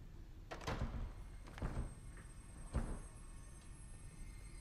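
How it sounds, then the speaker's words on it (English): A door in a reaction setting is banged and jostled, giving several sharp thumps and rattles over a few seconds, with a noisy low background. "you broke the door"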